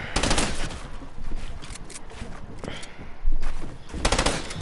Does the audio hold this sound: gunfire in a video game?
yes